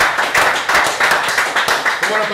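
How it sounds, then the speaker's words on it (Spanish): Studio audience applause for a guest on a talk show, with brisk clapping in a steady rhythm from a small group close by, under a voice speaking over it. "un aplauso para el gran Luis Sojo"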